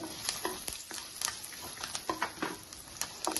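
Coriander seeds and sesame seeds dry-frying in a pan for an eggplant curry give faint, sparse crackles and soft pattering clicks, with occasional stirring scrapes, close by and without talk.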